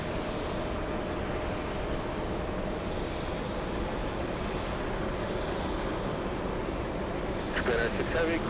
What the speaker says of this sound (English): We have the A380 Korean on final approach.